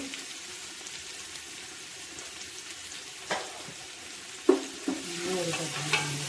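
Three large onions frying in masala for a traditional mutton curry, a low steady sizzle with occasional louder stirring clinks and scrapes toward the end.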